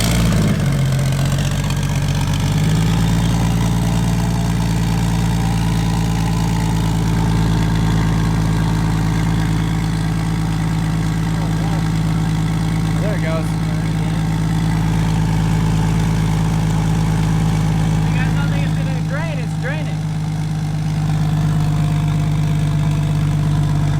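Turbocharged GM 4200 Vortec inline-six idling steadily after a quick start settle, a loud, even low hum with a faint whine and occasional light clicks, no speech.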